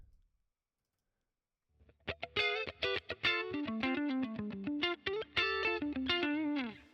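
After a brief silence, a clean electric guitar through an FAS AX8 amp model plays a run of notes and chords with a lingering reverb tail, no voices present.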